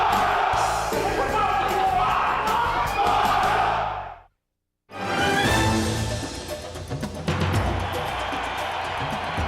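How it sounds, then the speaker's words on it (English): A sellout stadium crowd at the Holiday Bowl at Qualcomm Stadium roars and cheers loudly and continuously, breaking off sharply for a moment of silence before the din surges back, with yells and whoops rising above the wash. "a sellout crowd on their feet at Qualcomm Stadium"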